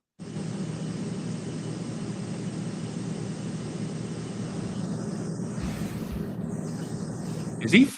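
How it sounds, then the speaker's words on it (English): A steady broadband hum from an air conditioner or fan sits behind a podcast guest's microphone, running unbroken for the whole stretch with a short louder bump near the end. "I think he's got like a AC or a fan or something behind him."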